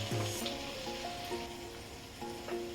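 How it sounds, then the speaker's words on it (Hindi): Garlic, coriander, cumin and pepper roast in a pan over a low flame for mix dal kadhi, giving a quiet, steady sizzle with faint stirring clicks and no talk. "इसका कच्चापन निकलने तक मैं भून लेती हूँ"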